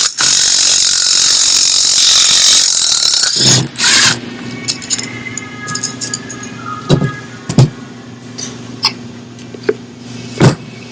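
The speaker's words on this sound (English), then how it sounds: "What I do is I just put a 17, one that's kind of offset like that, on the nut." A 17 mm offset wrench works a nut on a Toyota RAV4 rear shock, giving a sharp ratcheting clatter, then a series of separate metallic clicks and clanks close by with gaps between them.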